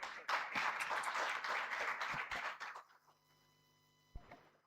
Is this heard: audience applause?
yes